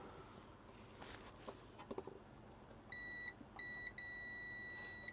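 Multimeter continuity tester beeps while probing circuit connections in an Amiga CD32 console, three sustained high tones in quick succession after faint tapping and handling noises.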